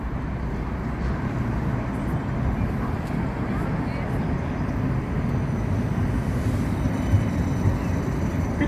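A tram arriving at the Edgbaston Village stop, a continuous low rumble and rolling hum of the tram at the platform, steady and fairly loud throughout, under intermittent background sounds.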